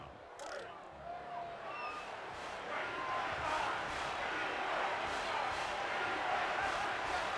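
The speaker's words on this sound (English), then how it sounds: "Crowd is getting pretty hyped just for this 3rd and 3." Crowd noise from a college football video game, Kent State versus Toledo, builds into a steady broad roar that swells and holds throughout, with faint harmonic tones and no clear speech over it.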